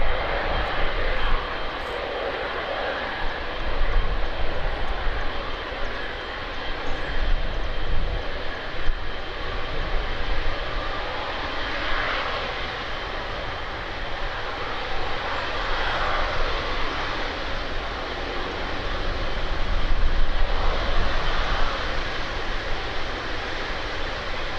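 A Boeing 787 Dreamliner departing Birmingham Airport, seen close up: a sustained, loud engine roar rising and falling in waves over nearly half a minute, with a deep low rumble beneath and no speech.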